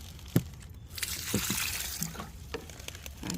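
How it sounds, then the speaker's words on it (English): Rainwater poured onto a newly planted tree collard in compost-rich soil, giving soft, close trickling and splashing with a few small knocks, steady and alone without talk. "And then of course we gotta water it."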